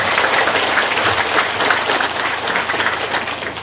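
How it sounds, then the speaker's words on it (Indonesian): Steady applause from a crowd at a Ramadan religious gathering in Riau, Indonesia, a dense continuous clatter of clapping that holds at an even level for a few seconds. "Tepuk tangan buat mereka."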